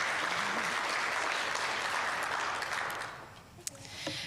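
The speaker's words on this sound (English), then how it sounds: "So round of applause again to them" Conference attendees applaud clean-tech competition finalists with sustained applause that thins out toward the end, leaving a few scattered claps.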